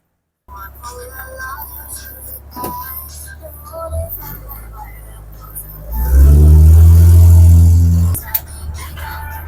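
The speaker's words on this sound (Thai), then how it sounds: "ตอนนี้รถมารับแล้ว" A vehicle, apparently a tram-style shuttle, rolls up at the Tham Luang cave site to collect passengers, its engine rumble swelling loud and close midway and then easing off, while people talk and murmur nearby.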